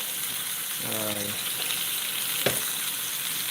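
A steak frying in a hot pan right after being flipped gives a steady, hissing sizzle that runs the whole time, with a brief clatter near the middle and faint talk in the background.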